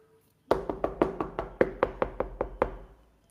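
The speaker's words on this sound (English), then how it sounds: "knock." A series of about a dozen sharp knocks on a door, evenly paced and fairly close, each ringing briefly before the next, with no talk over them.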